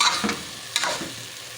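Black pepper being stirred into moong dal khichdi in a pot: a couple of quick, close spoon scrapes and stirring strokes over a soft simmering hiss, brief and fading.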